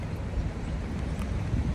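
Steady wind buffeting a microphone outdoors on a sunny, windy day while someone walks to the store, a continuous low rumbling roar with no speech.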